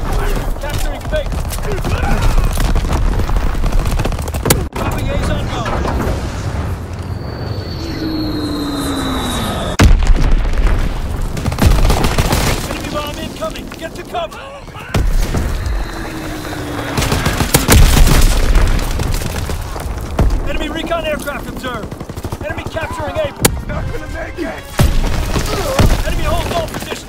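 Artillery shells from a barrage in Call of Duty: WW2 boom repeatedly amid gunfire and rumbling battle noise, with voiced radio commands over the action.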